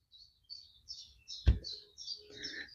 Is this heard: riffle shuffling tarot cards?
no